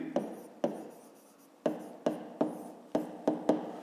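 Pen or pencil writing by hand on paper during a grade 5 math exercise, a series of about eight sharp scratchy strokes at an uneven rhythm, close and fairly quiet.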